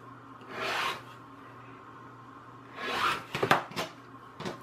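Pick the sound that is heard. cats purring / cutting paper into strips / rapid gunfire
cutting paper into strips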